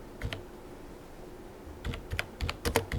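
Keys on a computer keyboard clack in a short burst, a couple of taps early, then a denser run of keystrokes toward the end, close and moderately quiet with no talking.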